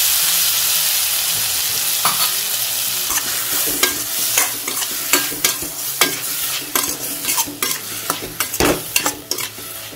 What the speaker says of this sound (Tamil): ஒரு 2 நிமிஷம் காய் வதங்கட்டும்